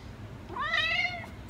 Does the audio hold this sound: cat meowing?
yes